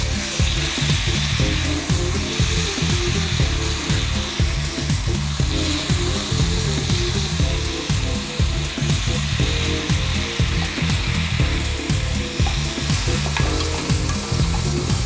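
Onions and peppers stir-fry in a hot wok for beef and broccoli, a loud continuous sizzle with constant scraping and tossing strokes, close up and unbroken, with no voices.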